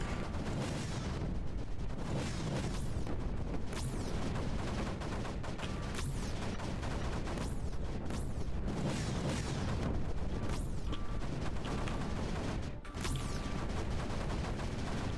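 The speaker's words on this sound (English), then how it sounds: "I think mortars are a much better way to take out the eggs" Mortars firing in the strategy game Creeper World 4: a steady, loud barrage of booming launches and impacts rolls on without pause, layered over a constant rumbling bed with no talk.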